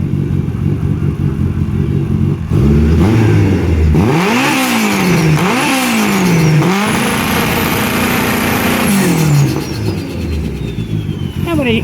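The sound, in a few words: Honda K-series swapped Mini Cooper revving on rev limiter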